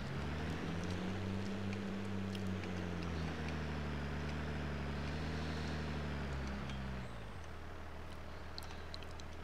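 A tractor in the farming game Cattle and Crops ploughs a field at speed, its steady droning engine loud and continuous, with a low hum that drops abruptly near the end.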